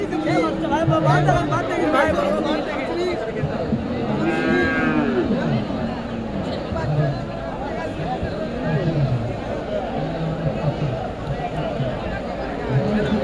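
Cattle and calves lowing repeatedly at a busy rural livestock market in Bogura, Bangladesh, several deep moos near and far amid crowd chatter and people talking.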